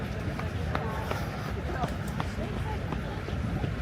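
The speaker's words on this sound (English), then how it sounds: "trying to listen for the footsteps going on my left." Footsteps pass along a riverside path in Manhattan on a Sunday stroll, heard as faint, quick taps under a constant wash of city ambience.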